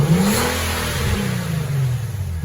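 A 2018 Nissan 370Z Nismo engine with its stock exhaust and mufflers revs up and falls back, a steady mid-pitched drone heard close with no talking.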